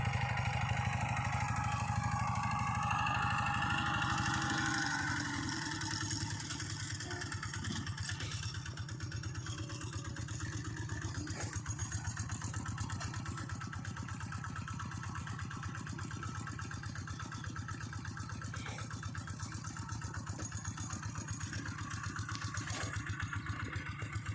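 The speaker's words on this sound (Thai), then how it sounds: "ใช้รถไถนาเดินตามนะครับสองคันนะครับผม" A walk-behind tractor's small engine runs steadily with a rapid, chugging mechanical beat and some clatter, close by and continuous throughout, with no talking.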